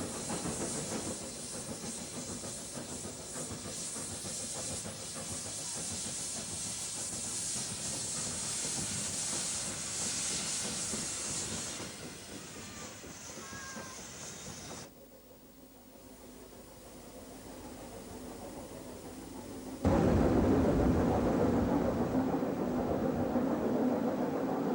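A small Welsh steam locomotive, No. 7, labors toward a summit with a constant loud hiss and chuffing. The sound drops off, then surges back louder near the end.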